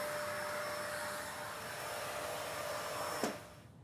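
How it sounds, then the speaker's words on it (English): A vacuum cleaner runs steadily over floor tiles being prepped for grouting, a continuous close whine and rushing airflow with no voices, ending in a brief knock near the end. "give the tiles a vacuum to prep the area for grouting"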